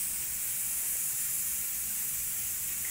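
A pressure cooker on a home stove lets out a continuous, even hiss of escaping steam. It is bright and steady throughout, with no whistle blast and no talk.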